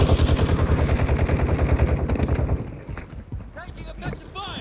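Sustained automatic gunfire in a battle royale video game, a fast steady rattle of shots for over two seconds before it drops away, followed by quieter game sounds and brief voice chatter.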